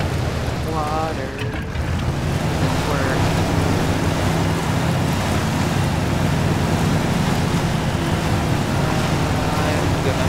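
Truck driving through water in the off-road game Mudrunner, a loud continuous churning rush of water and low engine rumble filling the whole span, with a brief voice near the start.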